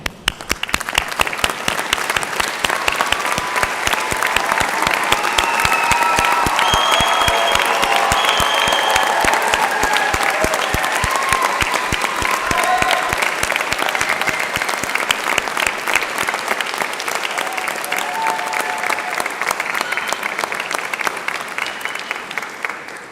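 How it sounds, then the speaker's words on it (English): At a university graduation ceremony for the faculty of Business, Law and Social Sciences, an audience gives loud, sustained applause, dense clapping that swells and holds for over twenty seconds before easing slightly. "join me in giving a warm, well-deserved round of applause"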